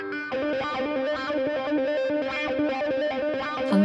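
Electric guitar run through the wah effect of a budget Matribox QME-50 multi-effects unit, a short distorted riff of repeated picked notes with a sweeping, vocal-like filter, loud and steady with no talking.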